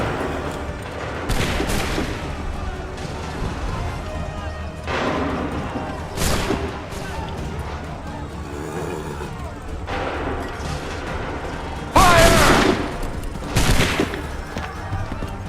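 Musket volleys fired on command in the video game Assassin's Creed III: several loud, separate ragged bursts of gunfire spaced a few seconds apart, with battle noise and shouted voices between them.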